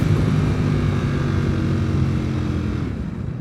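A Ducati V4R motorcycle engine is held at high revs, a loud, dense, sustained roar close by that eases slightly toward the end, with no talking.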